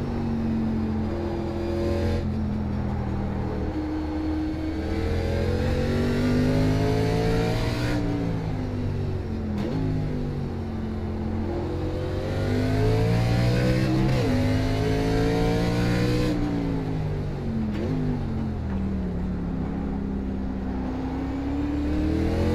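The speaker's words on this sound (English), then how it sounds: "These guys are racing really hard in front of us." Race car engines rev hard and continuously in the iRacing sim, a K&N National Series stock car race at Sonoma, with rising and falling gear-shift pitches from a close, loud pack battling for position.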